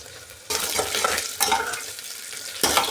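Green chilli, chopped garlic and onion frying with cumin in a pan, a steady sizzle broken by three louder bursts of stirring and scraping, close up and with no voices.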